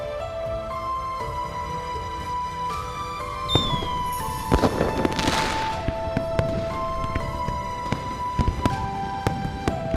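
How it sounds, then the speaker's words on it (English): Fireworks pop and crackle over a river in the game Love & Deepspace, sharp scattered bursts over the game's musical backdrop, with one brighter fizzing burst in the middle. "There will be fireworks over the river tonight."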